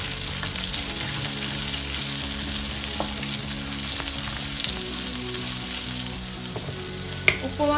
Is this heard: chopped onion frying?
yes